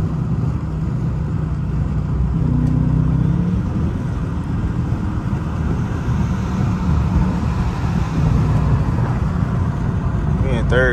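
A Dodge Charger RT accelerating in third gear through stand-still traffic, with a loud, steady engine roar heard from inside the car. People talk over it.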